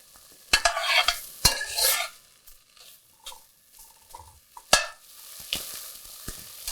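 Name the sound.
sausage sauteing and browning in a pot for soup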